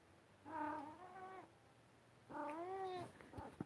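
A cat gives two drawn-out meows, the second longer and rising, close and clear over faint background noise.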